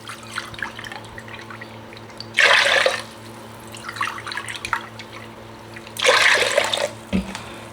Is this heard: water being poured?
yes